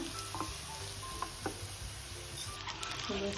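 Veg paneer burger patty frying in hot oil over a medium flame, a steady close sizzle with soft crackles and light pops throughout.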